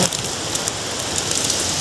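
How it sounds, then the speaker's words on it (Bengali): Heavy rain pours down in a dense, even hiss, falling hard enough to flood the road, close and continuous with no other sounds. "প্রচণ্ড বৃষ্টি হচ্ছে, প্রচণ্ড, মানে রাস্তায় জল উঠে গেছে, এরকম বৃষ্টি।"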